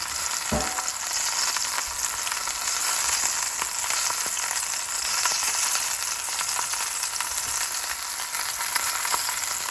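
Grass-fed beef chuck frying with onions in a pot for pot roast gives a steady, close, dense sizzle that runs unbroken for the whole stretch, with a faint stir or clink near the start and no voices.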